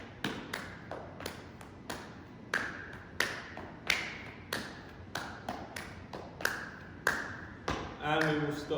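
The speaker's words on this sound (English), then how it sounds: "Clap, don't forget to clap." Hand claps during a Year 4 PE coordination warm-up, a steady run of sharp, evenly spaced claps roughly every half second, fairly close, with an instructor's voice calling along between them.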